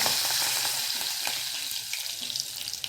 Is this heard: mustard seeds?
yes